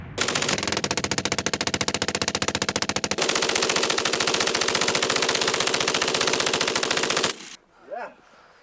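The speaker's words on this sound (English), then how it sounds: "The MG-42 was a simple, reliable killing machine." A German MG-42 machine gun fires long, continuous bursts at a very fast rate, loud and dense. The shots stop abruptly, leaving near silence with a brief faint sound at the end.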